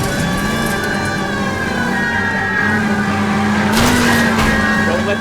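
A car chase in LA Noire brings a loud, continuous engine roar with rising and falling pitch, plus a whining tone near the end that could be a skid or a siren.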